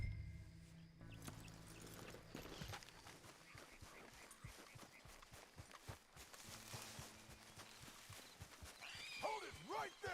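Horse neighing and clip-clopping hooves in the Red Dead video game, with whinnies rising near the end over steady hoofbeats and game sound, fairly close.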